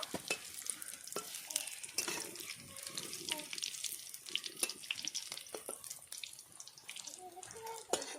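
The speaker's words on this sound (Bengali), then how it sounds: "বাকি তৈরি করে রাখা চপগুলোও ভেজে নেব।" Vegetable chops made with winter vegetables fry in hot oil, giving a faint, steady sizzle with scattered crackles and pops that continue evenly from start to end.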